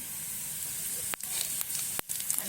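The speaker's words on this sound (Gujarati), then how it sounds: "હવે આપણે એડ કરીશું આમાં રાઈ જીરું" Mustard seeds and cumin sizzling in hot oil for Gujarati batata poha, a steady close hiss broken by two sharp crackling pops, with no voices.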